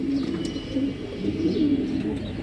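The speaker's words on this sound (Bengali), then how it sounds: "এখানে দেখতে পাচ্ছেন একজোড়া হোয়াইট ড্যানিশ" A pair of white Danish pigeons coo softly and repeatedly at close range, their low throaty calls rolling one into the next, with a faint chirp or two above and no talking.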